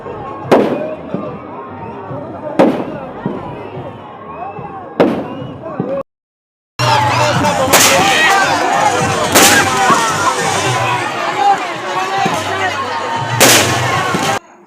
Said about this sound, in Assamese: বোমা এই মুহূৰ্তত মাৰি আছে দেখিছে